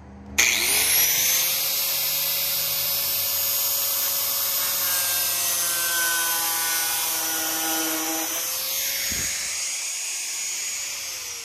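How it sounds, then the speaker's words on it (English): A hand grinder fitted with a cut-off disc slices through vinyl siding on a garage build, one continuous loud whining cut that holds for about eight seconds before the motor spins down, up close with no talking. "vinyl siding and metal is just a cut-off disc like this and a hand grinder. You just cut it off."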